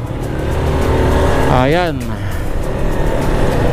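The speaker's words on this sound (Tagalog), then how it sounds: "Medyo ma-traffic sa ngayon" Road traffic flows past near a university campus in Bulacan, a steady loud rumble of engines and tires with a vehicle passing close by mid-clip, while someone speaks briefly.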